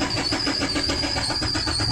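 The diesel engine of a Mahindra Bolero, due for servicing after long neglect, cranks and catches, settling into a steady rapid mechanical chatter heard close and loud with a high whine above it, no voices.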